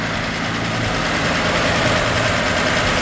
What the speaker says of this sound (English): Engine runs like a sewing machine.